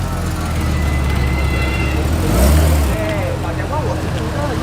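A Mazda RX-8 drives past at night during a JDM car cruise in Singapore, its engine note swelling to a loud peak as it nears and then easing away over a steady traffic rumble.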